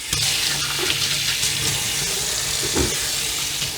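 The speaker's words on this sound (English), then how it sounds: "I'm gonna wash my hand" Tap water runs steadily into a kitchen sink while hands are washed between cooking steps, a continuous close splashing hiss that lasts the whole stretch with no talk.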